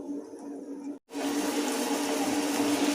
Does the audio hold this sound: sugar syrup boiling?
yes